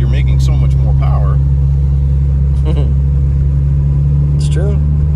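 Turbocharged Subaru BRZ with a swapped 2AZ-FE engine, heard from inside the cabin as a loud, steady low engine drone that holds throughout, with short bursts of chatter from passengers over it.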